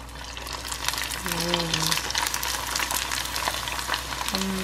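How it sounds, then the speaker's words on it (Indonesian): Emping belinjo crackers fry in hot oil in a home kitchen, giving a steady crackling sizzle throughout. Brief tonal clinks and a voice are heard alongside it. "ini saya mau goreng ini dong, emping belinjo"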